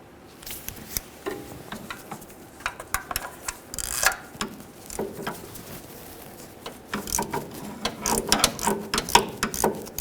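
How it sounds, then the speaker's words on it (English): A ratchet with a 13mm socket loosens the serpentine belt tensioner bolt on a 1998-2011 Ford Ranger 2.3L four-cylinder, producing bursts of quick, sharp clicking up close with short pauses between strokes. "To remove this, use a 13mm directly in the center port here."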